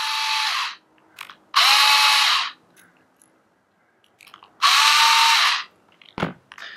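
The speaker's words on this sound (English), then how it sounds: "If you've got an electric screwdriver, now's the time to use it." An electric screwdriver spins out the screws on a Walbro WB series go-kart carburettor diaphragm cover in three loud, close bursts of whirring with short pauses between, followed by small clicks and a clunk.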